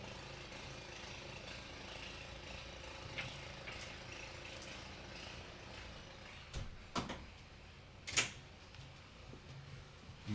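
A window is pulled shut indoors against outside motorcycle noise, giving a few soft thumps and a sliding scrape clustered near the end over a steady low background rumble.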